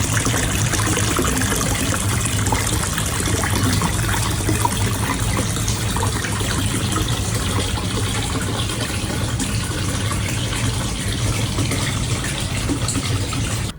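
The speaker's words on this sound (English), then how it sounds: "I sat back, closed my eyes, and listened to the steady stream of water flowing." A steady stream of water flows continuously at an outdoor onsen in Osaka Bay, a broad, even rush with a constant gush and trickle, close and unbroken, with no voices.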